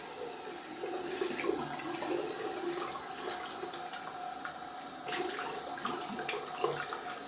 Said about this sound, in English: Just rinsing out my bowl down here in my sink.